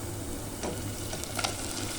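Chicken pieces frying and being stirred in a pot as the base for Filipino arroz caldo, a soft continuous sizzle with a few light scraping stirs, quiet and close, with no talking.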